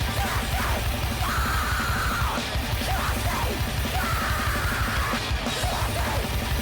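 Dense, loud metalcore, with harsh screamed vocals over pounding drums and distorted guitars, continuous and chaotic throughout.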